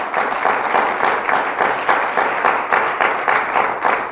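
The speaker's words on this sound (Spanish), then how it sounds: "fuerte el aplauso a mi Señor Jesucristo" Steady applause from a church congregation during a Spanish-language sermon, loud and continuous with rhythmic swells from many hands clapping together.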